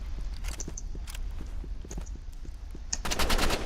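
Gunfire rings out in the Roblox game Rivals as sharp shots come in rapid, rhythmic bursts. A denser volley at the end is close and prominent, and there is no talking.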